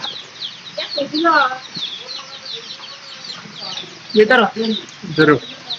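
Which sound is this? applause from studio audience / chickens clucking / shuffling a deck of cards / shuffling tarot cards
chickens clucking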